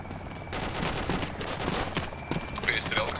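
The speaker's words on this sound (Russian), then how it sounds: "Перестрелка. Ну, идем в сторону перестрелки." Gunfire in an ArmA 2 ACE video game shootout: after a short quiet moment, a fusillade of rapid shots crackles in irregular bursts, fairly close and loud.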